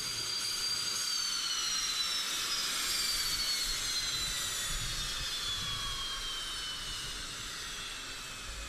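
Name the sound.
Su-25 attack aircraft jet engine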